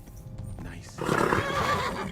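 A horse in the video game Kingdom Come Deliverance 2 lets out a loud, close whinny after a few soft hoof steps, its neigh filling the second half of the moment.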